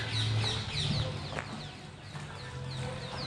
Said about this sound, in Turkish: Sadece kuş sesleri yeter.